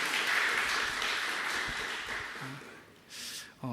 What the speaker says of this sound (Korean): 선생님들께 한 번 더 박수 보내드리도록 하겠습니다